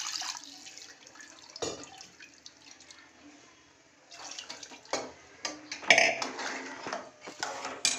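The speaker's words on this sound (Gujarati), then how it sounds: "આમાં સેજ પાણી નાખીએ." Water is poured into a chutney being ground in a mortar, heard as short, close splashing and trickling bursts with light clinks of a utensil between quieter gaps.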